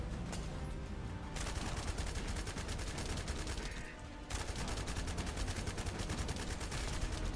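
Rapid automatic gunfire from Hailey's weapon in The First Descendant, dense and loud, pausing briefly near the middle before resuming in a fast, continuous stream.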